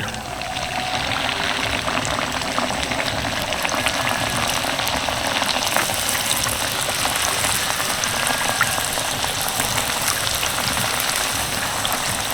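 Steady, dense sizzling and bubbling of khaja pastry frying in hot oil, continuous and fairly loud throughout, with no voices.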